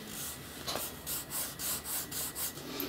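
Scratchy rubbing strokes of a finger across a textured matte screen protector on a Surface Go, repeated in a quick back-and-forth rhythm, close and fairly quiet.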